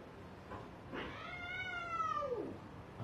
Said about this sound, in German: ein paar Katzen und Lady Di ist in Kampfposition.